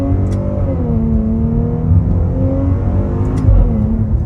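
A Maserati fitted with an FI aftermarket exhaust revs loudly up close, its deep, rumbling engine note rising and settling in steady waves with a sharper surge near the end, heard alone without talk.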